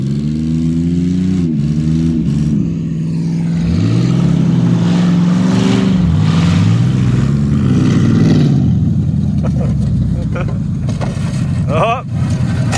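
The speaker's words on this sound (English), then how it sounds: "Oh, your muffler is almost gone." A 4x4 truck with a nearly gone muffler revs loudly at a muddy off-road outing, its raw engine note rising and falling in long sweeps while people talk over it.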